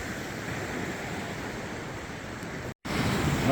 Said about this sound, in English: Some pretty fierce waves